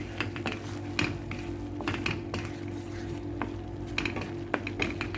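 A spoon stirs daripa balawag in a cooking pot, with soft scraping and knocks against the pot at irregular intervals over a low, steady sizzle and background hum.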